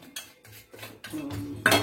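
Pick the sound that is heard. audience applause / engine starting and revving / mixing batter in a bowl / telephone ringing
mixing batter in a bowl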